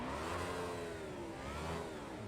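A race car engine revs hard in first gear at the standing start in the iRacing simulator, a steady, fairly quiet whine with rising and falling pitch sweeps.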